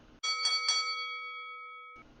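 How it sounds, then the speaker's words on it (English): A single clear bell chime rings out, bright and close, with a sustained tone slowly fading away in an otherwise quiet room, marking the end of a show. "The sound of that bell means we are out of time."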